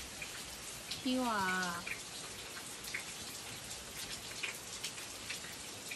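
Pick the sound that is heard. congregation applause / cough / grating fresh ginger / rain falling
rain falling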